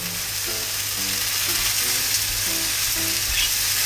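Deep-fried tofu rolls wrapped around enoki mushrooms and pork belly sizzle in a pan, a loud, steady, close frying hiss with faint crackles and no voices.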